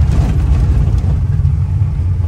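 A Renault 4L car drives slowly along a dirt track, its engine giving a loud, steady low rumble with road noise and no talk.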